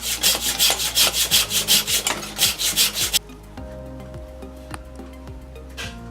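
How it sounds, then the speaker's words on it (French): A hand saw cuts wood while its blade rides in a horizontal saw guide, giving a run of rhythmic rasping strokes, loud and close, that stops halfway through, leaving quieter knocks and handling noise. "on introduit la lame de la scie horizontalement dans le guide et on extrait la scie horizontalement"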